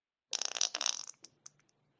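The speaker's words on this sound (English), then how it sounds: "that fart almost sounds like bubble wrap, like the tiny bubbles popping like that" A fart crackles in a rapid series of tiny pops like bursting bubbles, loud and close at first, then trailing off into a few scattered sputters.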